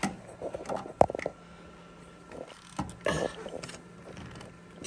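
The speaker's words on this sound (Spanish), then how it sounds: "vamos a aflojar los tres tornillos" Mechanical clicks and ratcheting of tightening-stiff screws being loosened on a Barudan embroidery machine during hook timing, a sharp near click around one second and scattered metallic knocks, no talk.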